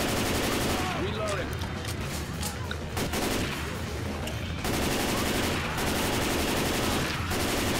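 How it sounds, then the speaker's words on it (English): Dense bursts of video-game gunfire from Left 4 Dead 2 rattle almost continuously, loud and close, with a brief lull near the middle, while players talk over the shooting. "why'd you run to my gunfire?"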